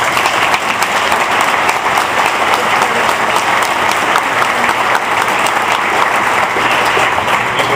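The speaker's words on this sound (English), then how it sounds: "So give yourselves a huge round of applause." Staff and community partners at a Detroit Hispanic development organization give themselves a loud, close round of applause, dense continuous clapping that holds steady for nearly eight seconds with a faint crowd murmur underneath.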